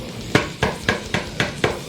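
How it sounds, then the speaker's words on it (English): A large spoon knocks and scrapes inside a blender jar holding a berry smoothie mixture, six evenly spaced sharp clunks over a steady background hum. "take a large spoon that I usually like to use to move around the inside, move around the mixture"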